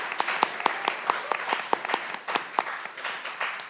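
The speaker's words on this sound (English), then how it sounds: "Give everybody a round of applause for" Audience applause after student presentations at a judged pitch competition, a few people clapping in a sparse, uneven rhythm of distinct nearby claps, with faint murmuring underneath.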